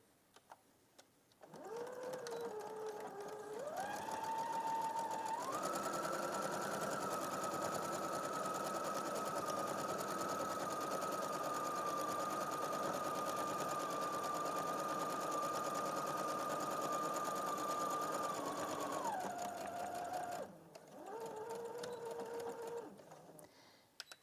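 A sewing machine runs a long continuous stitching pass over fabric binding near overlocked edges, whirring steadily and loudly for most of the span after a short start-up, then slowing to a stop.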